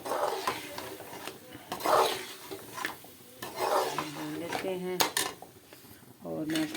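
Green chillies frying in a pot for chicken yakhni, stirring clatter of a utensil against metal with clinks and scrapes over a soft sizzle, bursts coming and going.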